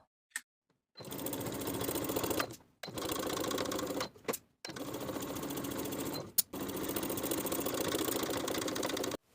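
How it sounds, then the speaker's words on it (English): A sewing machine edge-stitches along the folded edge of a bag pocket in four steady, fast-running bursts separated by short pauses, close and alone. "Sew straight across, edge stitching along the bottom folded edge, catching both edges as you go."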